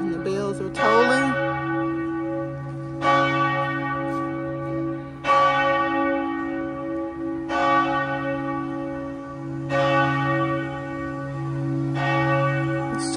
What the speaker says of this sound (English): It's 3 o'clock and the bells are tolling.